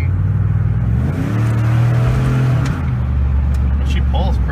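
A 2001–2002 Dodge Dakota, Durango or Ram truck converted from a four- to five-speed automatic revs loudly while accelerating on a drive, its engine note rising and shifting through gears over a steady low rumble, with people talking over it.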